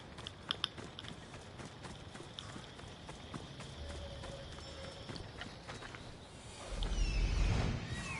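Horse hooves clip-clop at a steady trot in Assassin's Creed Odyssey, a fairly faint rhythmic patter over a game ambience, building to a louder rumble near the end.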